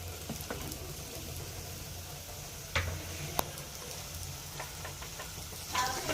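Chopped tomatoes and green chilies fry in a pan with a faint, steady sizzle and occasional soft ticks and clicks from stirring.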